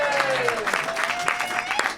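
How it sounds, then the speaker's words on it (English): Audience at a comedy roast battle in a London venue breaks into brief clapping, a short patter of applause lasting about two seconds, moderately distant and mixed with room noise. "Big round of applause for Adam Riley."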